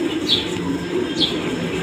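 Purebred imported pigeons at a large breeding and research loft coo softly in low steady tones, with a couple of brief higher chirps over a constant background hum of the flock.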